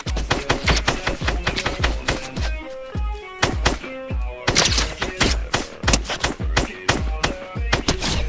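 Rapid gunfire in Fortnite, dense loud bursts of shots with punchy low thumps repeating throughout and almost no gaps.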